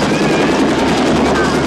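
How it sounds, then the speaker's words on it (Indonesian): A patrol helicopter sent to break up a crowd flies overhead, its loud continuous rotor roar and engine whine filling the scene, with a voice speaking over it. "cahaya lampu itu ternyata adalah helikopter patroli yang sengaja datang untuk membubarkan kerumunan"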